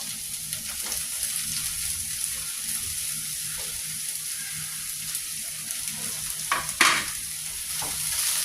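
Chopped ivy gourd and dried shrimp fry in a pan while being stirred, producing a continuous close sizzle with a few louder spatula scrapes near the end and no voices.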